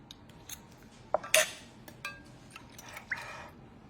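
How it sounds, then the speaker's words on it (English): Metal whisk clinking and scraping against a bowl while mixing a sauce for an easy one-pan ramen noodle dinner, a few sharp taps and uneven scrapes close up with no talk. "So now we're just going to whisk this up."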